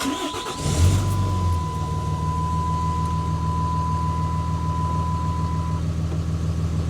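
A 3rd Gen Cummins diesel pickup with a low fuel pressure problem cranks briefly and fires, then settles into a steady, loud, rhythmic diesel idle with a thin high whine running over it.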